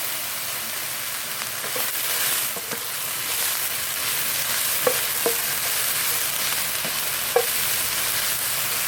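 Pork belly stir-fried in oil in a pan, producing a loud, steady crackling sizzle with occasional sharp clinks of a utensil against the pan, close up.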